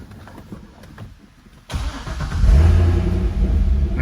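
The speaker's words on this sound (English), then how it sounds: "Nice growl to it with the Corsa exhaust on it." A car engine cranks and fires up, then settles into a deep, loud growl through a Corsa exhaust, heard close with no talk.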